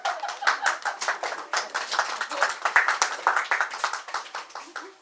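An audience at a Space Coast Players community performance claps in a steady rhythm, the beats close and moderately loud, with a few voices underneath.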